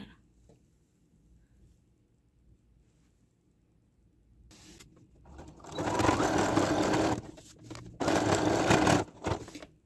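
Sewing machine topstitching two layers of fabric together, starting after a quiet stretch with two loud, close bursts of rapid stitching separated by a brief pause.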